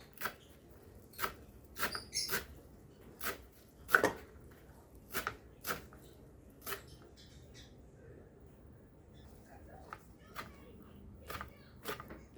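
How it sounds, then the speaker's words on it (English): Fresh parsley for tabbouleh is chopped finely with a knife on a board, with sharp, irregular taps close by and short pauses between strokes. "Now let's chop our parsley finely."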